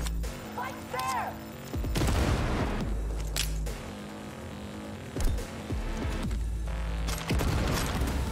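Grenade blast and bursts of gunfire in the game Cyberpunk 2077, a loud boom near the two-second mark followed by scattered shots and impacts over a dense, busy game soundtrack.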